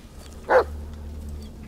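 A single dog bark in the horror video game Blair Witch, one short sharp bark over a steady low background hum, fairly close and moderately loud.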